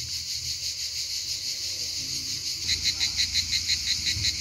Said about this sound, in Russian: а здесь целый хор поют цикады